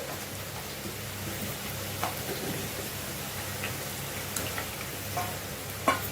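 Onion pakodi fry in hot oil over a moderate flame, a steady soft sizzle and bubbling that runs throughout, with a few faint ticks and clinks from the pan.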